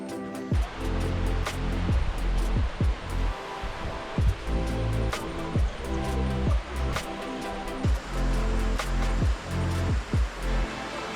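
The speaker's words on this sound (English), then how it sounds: "I made it to the top of the waterfall" Waterfall rushing in a steady broadband roar near the top of the falls on the Machinchang Peak hike, with scattered sharp knocks and rustles over it and no speech.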